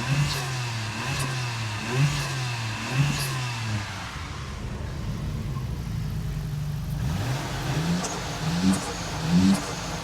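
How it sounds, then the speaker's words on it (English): Nissan Skyline R33 GT-R engine blipped repeatedly, sharp rising revs recurring about every second, easing to a lower idle drone, then climbing again with more rev bursts near the end. "this car was louder on the rev"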